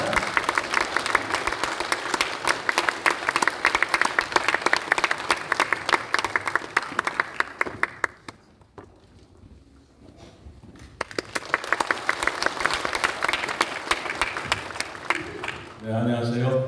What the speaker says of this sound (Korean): 우리 시장님 나오실 때 우리 박수로 힘차게 모시도록 하겠습니다